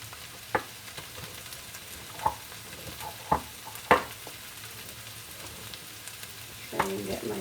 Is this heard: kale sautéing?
yes